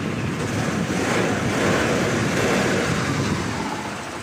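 A repaired vehicle engine, freshly rebuilt, revs up in a loud, steady roar that swells slightly mid-way and eases toward the end, with a broad rushing noise throughout.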